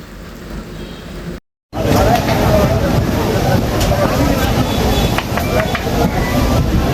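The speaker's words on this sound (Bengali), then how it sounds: "হাটে পৌঁছানোর সাথে সাথেই বৃষ্টি নামছে" Rain pours down at a rural cattle market, a loud, steady rushing hiss that starts abruptly after a brief silence and holds throughout, with people talking beneath it.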